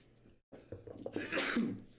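A single sharp sneeze bursts out close by after a brief pause, with a breathy intake before it.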